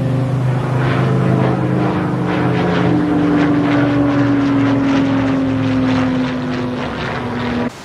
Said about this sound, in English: we've just had a Spitfire circle around us